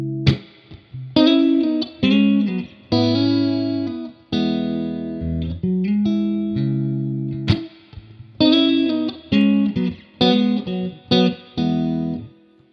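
Electric guitar through a Fender Hot Rod Deluxe amp with added reverb, playing chords and melodic phrases in bursts with brief gaps, each note trailing into a splashy reverberant tail, loud and close with no talking.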